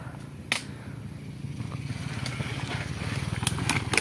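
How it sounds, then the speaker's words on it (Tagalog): A motorcycle climbs a steep uphill road, its engine drone building steadily and drawing nearer over a few seconds, with a few sharp clicks and clatters from close by. "May dadaan pang motor."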